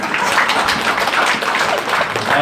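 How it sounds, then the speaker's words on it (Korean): A church congregation claps together during a Sunday worship sermon, a thick, loud, continuous burst of many hands with no break across its short span. "박수부터 칩시다."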